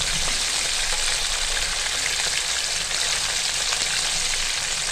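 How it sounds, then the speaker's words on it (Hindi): Chicken frying in hot oil over a slow flame, turning golden, gives a loud, steady, dense sizzle that crackles evenly without pause. "अच्छी तरह फ्राई हो रहे हैं"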